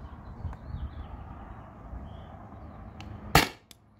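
Air gun firing a 9.8 gram PVC-coated steel ball through a chronograph: a single sharp close crack near the end, after a stretch of low background rumble.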